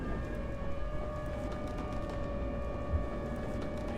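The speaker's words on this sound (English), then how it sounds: "I'm hoping our siren doesn't get taken away" A siren built in the video game Minecraft during a tornado survival game, a steady sustained wailing tone held throughout, moderately loud over a low rumbling background with no talking.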